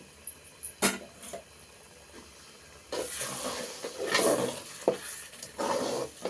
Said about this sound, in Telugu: ఇది రెండు నిమిషాలు బాగా వేగాలండి